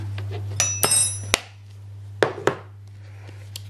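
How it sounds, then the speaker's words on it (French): Baking soda is stirred into a gingerbread (pain d'épices) mixture in a bowl: a utensil knocks and clinks against the glass in a few sharp, irregular taps over a steady low hum. "On mélange, on incorpore le bicarbonate."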